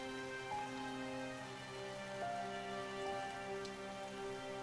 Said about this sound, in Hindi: भगवान करे ये बारिश रुक जाए